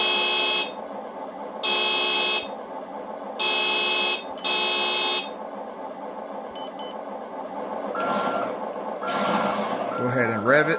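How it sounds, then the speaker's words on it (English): An HG-P408 RC Humvee toy military vehicle sounds its horn in four loud, even electronic beeps of about a second each, followed by engine-like whirring and faint handling noises; no talking. "Let's go ahead and blow the horn a few times."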